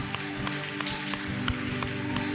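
A church congregation clapping hands in a steady rhythm, moderately distant, over a continuous background of music and voices.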